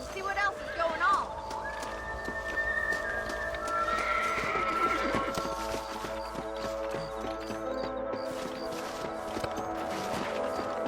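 Horses neigh and whinny in the Red Dead Redemption video game, with hooves clip-clopping beneath a steady bed of game music and ambience, the animals fairly close and loud throughout.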